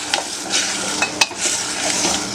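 Mutton stirred with ginger garlic paste in a pan, a dense sizzle broken by quick clinks and scrapes of a spoon on metal, close and loud, no voices.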